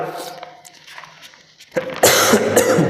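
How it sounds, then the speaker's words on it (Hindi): A person coughs several times, a few quieter coughs first and then a louder harsh burst close by. "थोड़ा सा खांसी हो गया"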